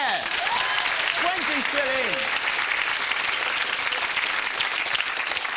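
A studio audience on the 1997 quiz show Whittle breaks into dense, steady applause that stays loud throughout, with a presenter's voice over the opening moments.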